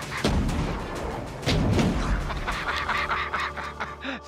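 Thunder Mugs, a poor man's cannon, fire in several loud booming blasts, with sharp reports and crackling echoes trailing after each shot outdoors.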